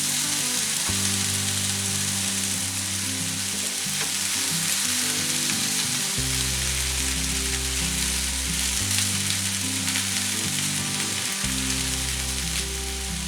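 Red and yellow peppers, snap peas and mushrooms sizzle steadily in a hot pan, a close, continuous frying hiss with no talking.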